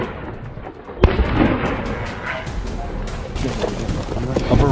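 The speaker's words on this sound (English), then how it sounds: "A barrage of gunfire followed, sending the rest of the herd into a panic." Gunfire aimed at a herd of wild boars outdoors: a sharp loud crack at about one second, then a dense noisy rumble of shots and wind buffeting that carries on steadily to the end.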